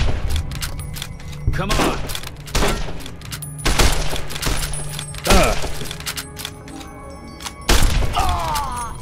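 In Fallout: New Vegas, gunfire rattles in repeated bursts of sharp shots and thuds, mixed with game clatter, while a player talks over the action.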